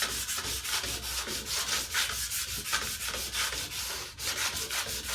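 An orbital sander works across the roof of a 1964 Mk1 Mini, sanding epoxy primer with a steady, close, continuous rasping hiss. The sound has rhythmic surges as the pad moves, and no voices are heard.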